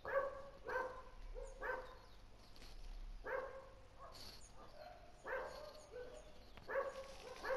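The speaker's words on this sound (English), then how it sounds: "So sorry if you're hearing my dog." A dog barks repeatedly during a GTA 5 Online Gmod death run game session, sharp bursts recurring every second or so in the background, fairly faint under game sound.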